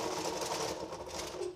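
An office printer runs nearby in a room where a glitter tumbler is being made, giving a steady mechanical whir with rapid rhythmic clatter that holds at an even, fairly loud level for the whole stretch, with no talking.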